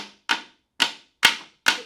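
Four sharp, evenly spaced hammer blows on a scrap piece of wood held against a drawer front to knock it loose, close up and solid, each ringing briefly before the next strike.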